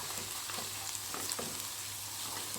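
Red chilli, turmeric and coriander powders sizzle in light-brown frying onions while a spoon stirs them in a pan, a steady close crackling hiss with faint scraping, no voices.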